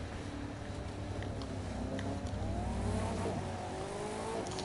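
Race car lapping a track in the video game The Crew 2, its engine droning loudly and steadily throughout with revs climbing and falling, a few faint tire noises in the background.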